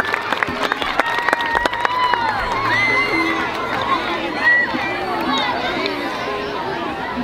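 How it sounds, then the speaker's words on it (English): Crowd at a school May Day show claps and cheers for preschool and kindergarten performers, a loud, steady wash of applause with children's shouts and chatter mixed in throughout. "Let's have another round of applause for our preschooler and our kindergarten."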